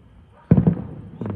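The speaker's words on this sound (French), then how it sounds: "Non mais là les feux d'artifice là il y en a partout." Bastille Day fireworks burst in a quick cluster of sharp, low pops followed by a second fainter thump, heard at a distance outdoors.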